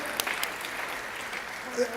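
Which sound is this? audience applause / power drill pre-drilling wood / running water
audience applause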